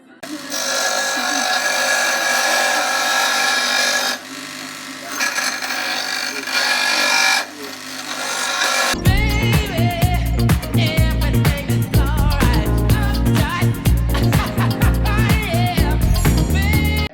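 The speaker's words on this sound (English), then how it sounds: "So we're just going to get that on a grinder?" A grinder working on a metal bicycle lamp mount: a loud, steady motor whine for the first half, then a harsher, gritty grinding with rapid fluctuations as the tool bites into the metal, close and continuous.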